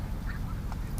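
A duck with a hip problem gives a couple of short, muffled quacks close by against a low rumbling background.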